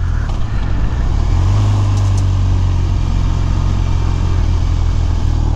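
BMW R1200RT motorcycle with its boxer twin idling close by, a steady low rumble that swells slightly for a moment before settling back to an even, moderate drone.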